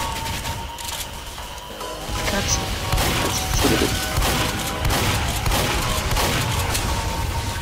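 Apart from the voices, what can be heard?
gunfire in the video game Team Fortress 2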